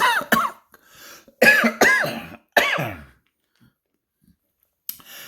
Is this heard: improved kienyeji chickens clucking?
no